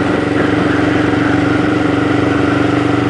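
A motorcycle engine idles steadily and close by while the bike is leaned over to the left, a loud, even, throbbing hum without any revving.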